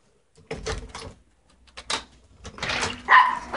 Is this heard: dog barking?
yes